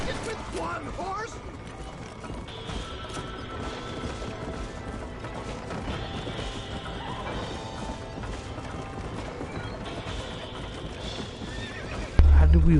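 Horses in the Red Dead Redemption video game neigh and whinny over steady clip-clopping hooves at a gallop, with game voices talking over the action and a sharp crash near the end.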